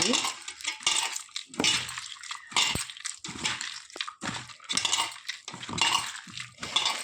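Clinking and scraping of raw small fish pieces being tossed and mixed in a metal bowl, a steady run of clattering strokes close by, no talking.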